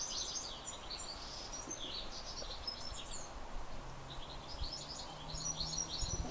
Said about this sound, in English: It sounds like a goldfinch, but it sounds like a goldfinch doing an impression of a wren.